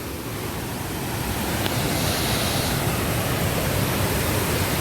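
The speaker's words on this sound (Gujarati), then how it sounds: "બાકી આ જુઓ ધોધ કાંઈ ઘટે નહીં એવો ધોધ પડી રહ્યો છે" Water of the Shetrunji river pours steadily over the Galdhara dam, a dense, continuous roar of broadband rushing that stays loud and unbroken throughout, with no voices.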